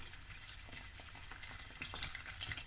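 Breaded tofu fries bubble and sizzle steadily in hot frying oil, a dense close crackle with scattered louder pops throughout, no voices.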